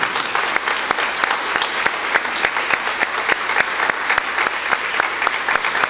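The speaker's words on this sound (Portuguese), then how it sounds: "Vamos aplaudir a nossa igreja." A Catholic Mass congregation applauds in church, loud sustained clapping from many hands with sharp individual claps standing out, filling the space for several seconds.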